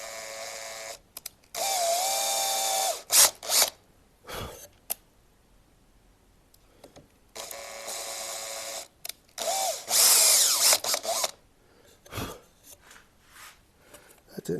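A power drill bores holes in short bursts, several loud whirring runs separated by pauses, with sighs, breaths and faint handling noise between the runs.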